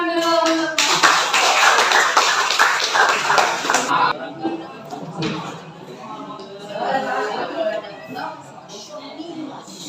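Students applaud in a classroom during a lesson. Dense, close clapping lasts about three seconds, then fades into scattered claps and chatter while people talk.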